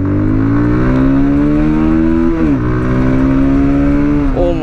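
A new Bajaj Pulsar 220F motorcycle, an E20 BS7 model, pulls away hard from a standstill. Its engine note climbs loudly and close up, with two quick dips as it shifts up before revving again.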